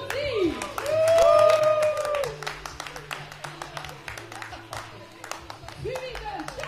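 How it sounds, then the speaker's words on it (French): An audience at an improv show breaks into a scattered run of claps that thins into sporadic individual claps, under a host's voice and some crowd noise. "Maintenant, on peut accueillir Annie, mesdames et messieurs, on l'applaudit."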